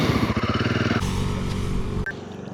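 A Royal Enfield Guerrilla 450 engine pulses loudly and close while riding, rapid throbbing firing rhythm that shifts pitch after a second, with a short clack near the end.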